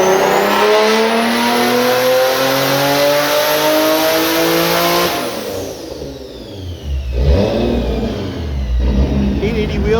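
A 1000 hp Infiniti G35 revs hard on the street, its turbo spool rising as a high whistling whine over a loud, close engine roar that drops off midway before building again.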